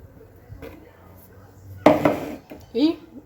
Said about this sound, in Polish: Delikatnie mieszam.